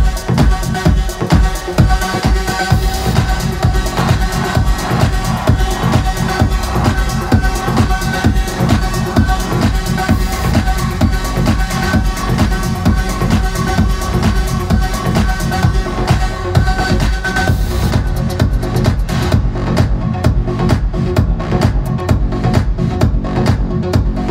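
Two dance tracks play together in a steady, loud mix, with a driving beat and a deep bass line running continuously throughout.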